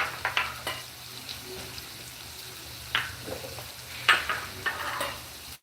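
Coarse chili powder and crushed peanut powder frying in a pan for sabudana khichdi give a soft, close sizzle, broken by a few sharp scraping stirs of the spoon.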